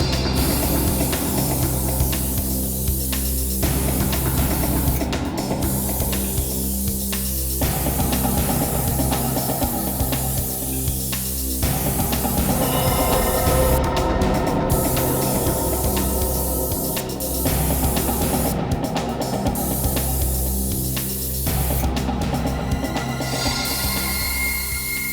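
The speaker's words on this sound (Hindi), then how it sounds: "लिफ्ट में चारों तरफ अच्छी तरह से स्प्रे कर दें" Special spray hissing steadily around the inside of a lift during a crime-scene check, a continuous loud sustained spray with brief pauses, heard alone without talk.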